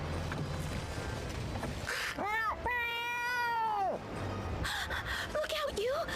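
A cat character in the video game Bravely Second letting out a long, drawn-out meow that swells and fades, set among game sound effects and voiced dialogue.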